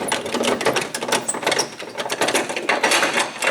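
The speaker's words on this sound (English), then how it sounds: "Now you turn the crank counterclockwise" A hand crank on a hangar door is turned counterclockwise, giving a close, continuous mechanical ratcheting clatter of gears and pawls that keeps up a fast, steady rhythm.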